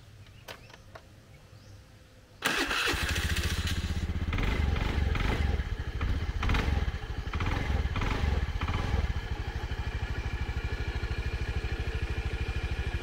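A scooter engine in Pai, Thailand sputters to life after a couple of seconds of quiet, then runs loudly and steadily with a buzzing, rattling idle close by.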